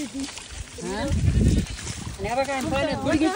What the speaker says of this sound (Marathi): हे गावातली मामाच्या मेंढ्या अशा भिजतात पावसात